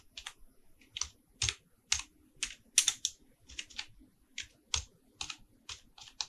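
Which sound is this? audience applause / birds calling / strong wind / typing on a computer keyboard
typing on a computer keyboard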